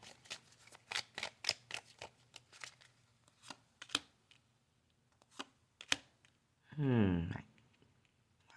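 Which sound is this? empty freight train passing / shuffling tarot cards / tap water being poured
shuffling tarot cards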